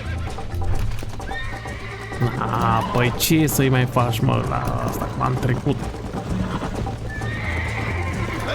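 Horse in Red Dead Redemption whinnying and clopping its hooves in a steady rhythm, close and loud, while someone talks over it in Romanian.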